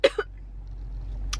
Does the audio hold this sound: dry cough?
yes